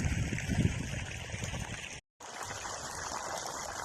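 Water from a motor pump runs into a paddy field in a steady, splashing stream, trickling and gurgling at moderate level, briefly cutting out to silence midway before resuming.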